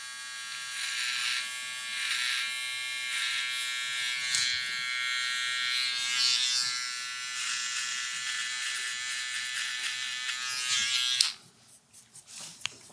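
Electric hair clippers hum close and steady as a barber cuts the first guideline of a high taper fade, buzzing for about eleven seconds before switching off, followed by a few light handling sounds.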